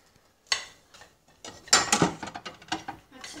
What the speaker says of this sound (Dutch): En ik moet nou een ander bord gaan pakken